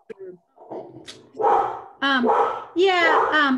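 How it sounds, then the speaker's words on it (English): A dog barks and yips several times, close and loud, during an online meeting, the barks following hesitant speech at the start. "apologies for my dog, right?"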